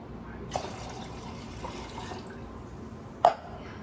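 Water pours into a drinking glass in a home kitchen where rasam is being made. A soft, steady trickle is heard close by, broken by two sharp clinks of glass.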